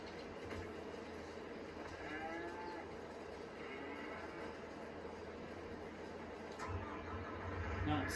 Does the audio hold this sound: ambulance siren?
no